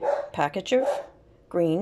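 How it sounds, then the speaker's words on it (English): Dogs bark at home, a few short yaps and a longer bark, mixed in with and following a woman's speech in a kitchen. "excuse the dogs barking"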